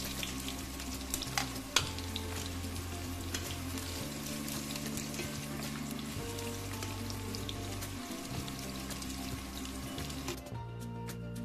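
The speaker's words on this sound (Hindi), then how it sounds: "तेल में प्याज डाल दूंगी।" Steady sizzling of sliced onions frying in hot oil, a dense continuous hiss with occasional crackles and pops, close and fairly loud, no voices.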